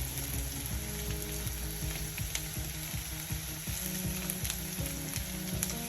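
Ginger, garlic and onions frying in a pan, a steady sizzle with repeated rhythmic scraping clicks from stirring, close and moderately quiet, no talk.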